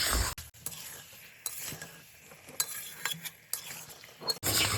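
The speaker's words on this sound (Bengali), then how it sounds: "সমস্ত মশলার সাথে এবার আলুটাকে ভীষণ ভালোভাবে কষিয়ে নেব" A spoon scrapes and knocks against a pan while chandramukhi potatoes are stirred with spices and yogurt over a low flame for aloo dum, a soft background sizzle under steady clinks and scrapes, close and alone without talk.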